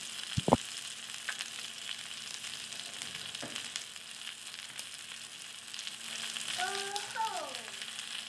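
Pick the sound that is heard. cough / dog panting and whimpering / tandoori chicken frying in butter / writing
tandoori chicken frying in butter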